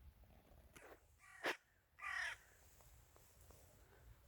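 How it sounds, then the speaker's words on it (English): Hooded crows calling outdoors on an overcast winter day among snowy scenes, two or three harsh caws in a moderately close burst, the loudest a long rasping call near the end, over quiet background. "There's a hooded crow and another one just arrived"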